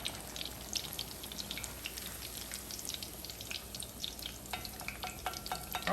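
Shrimp egg foo young frying in oil just after being flipped, giving a steady crackling sizzle with scattered pops and spatters throughout, moderately loud and close, no voices.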